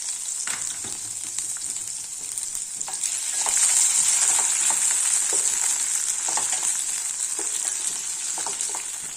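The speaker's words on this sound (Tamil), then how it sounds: "கொஞ்சம் வதங்கட்டும்" Brinjal, drumstick and tomato sauté in hot oil in a pan for a tamarind kuzhambu, giving a steady, loud sizzle with scattered clicks of a spoon stirring through the vegetables.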